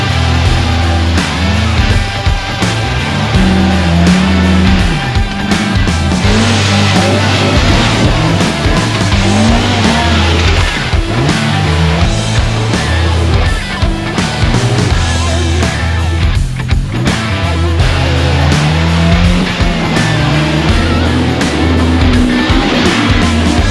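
A Polaris RZR Pro R side-by-side on 37-inch tires drives a rough trail, its engine roaring loud and close without a break while it revs, surges and bumps over the terrain.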